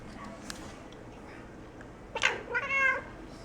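A pet cat meows indoors, a short series of rising calls near the end after a stretch of quiet room noise, with faint talk in the background.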